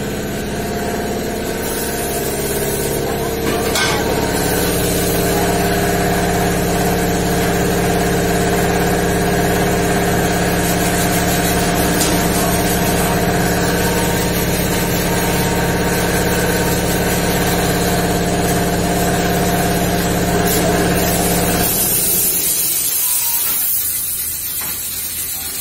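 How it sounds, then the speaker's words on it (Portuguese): A tractor engine idles steadily and loudly at close range, a continuous droning rumble with a hissy edge that cuts off near the end, outside a tire repair shop. "Trator."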